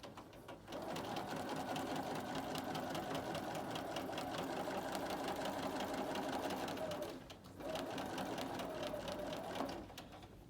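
Sewing machine quilting a fabric circle along a ruler, running in a steady rapid stitching chatter for several seconds, pausing briefly, then resuming close and clear.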